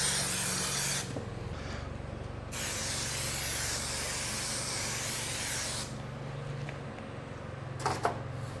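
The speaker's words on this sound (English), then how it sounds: "now I'm gonna spray it on the back side of the carpet" Spray adhesive hisses from an aerosol can onto the back side of carpet for jon boat flooring, in long, close, steady bursts with short pauses and a few light handling knocks.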